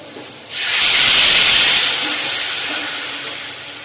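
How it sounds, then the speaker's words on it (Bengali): Water poured into a hot pan while cooking fish curry, a sudden loud burst of hissing steam that peaks and then slowly fades to a softer boiling hiss, close and alone. "চলুন জলটা ঢেলে দিই।"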